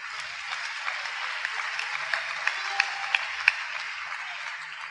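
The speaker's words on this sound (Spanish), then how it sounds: "Vamos a darle un aplauso al Señor." A church congregation claps together in steady, dense applause at moderate distance. A few sharper individual claps stand out midway through.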